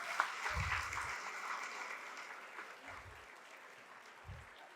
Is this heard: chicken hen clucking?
no